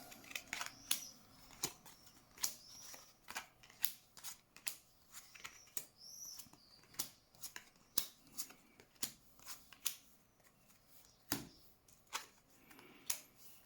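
Tarot cards being shuffled and drawn for a reading: a steady run of crisp, close snaps and flicks, each card click standing alone in a quiet room.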